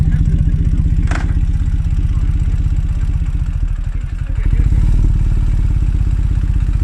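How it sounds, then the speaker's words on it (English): Loud, close Ural motorcycle exhaust chugging in a steady rapid pulse, dipping briefly then swelling back louder, with a brief clatter early on. "Beautiful sound of the exhaust."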